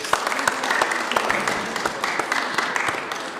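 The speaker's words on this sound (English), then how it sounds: "Please give yourselves a round of applause" Seventh-grade students in a school chapel clap together in a lively, dense round of applause, sharp hand claps close by with faint voices beneath.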